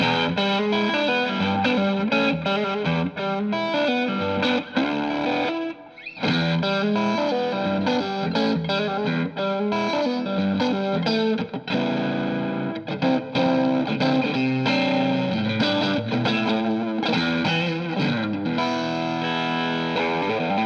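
An electric guitar is played through a Keeley Katana boost pedal with its knob pulled out, giving a driven, distorted tone across strummed chords and single-note lines, alone and continuous with one brief pause.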